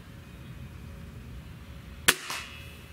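A .30 calibre airgun fires a single sharp, loud crack, sudden and close, followed by a brief fainter thump against a quiet background hum.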